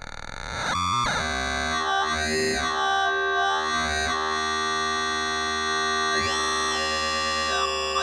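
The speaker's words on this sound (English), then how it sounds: "Now I want to send it some audio rate FM." Modular synthesizer module driven by audio-rate frequency modulation from a sine wave, giving a loud, distorted tone with swooping, bending harmonics that rise and fall over several seconds, no voice present.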